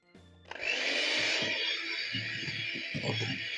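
An electric mixer whips fruit cake batter curdled with lemon juice and zest, starting up after a brief rattle and then holding a loud, steady whir, with low bumps and clatter of the beaters against the bowl.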